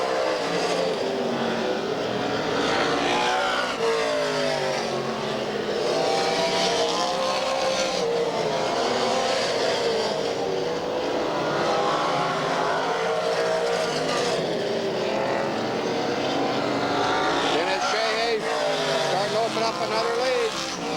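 Race cars roar around the Redwood Empire Raceway speedway oval in Ukiah in 1985, a loud continuous engine drone swelling and fading as cars pass, with an announcer talking over it throughout.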